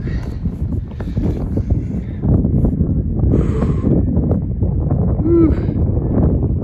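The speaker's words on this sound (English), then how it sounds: "It's windy up here." Gusty wind on a rocky mountain in the Wallowas buffets the microphone in a steady, loud low roar, with brief rustling and a short exclamation from a voice.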